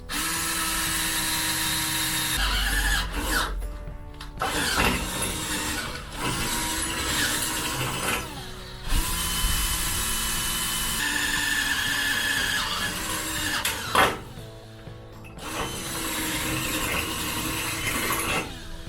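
A power drill whines in long sustained bursts with brief pauses between, high-pitched and close, grinding through metal while a brake light is installed.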